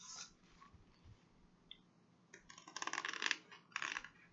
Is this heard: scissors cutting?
yes